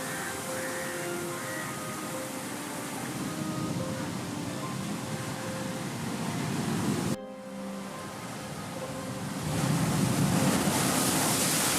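Sea waves surging onto the shore at Chellanam, a dense continuous roar of surf with a brief cut partway and a louder rushing swell afterward, heard alone.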